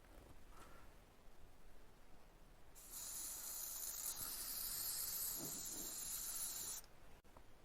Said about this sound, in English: once you put the spray glue on there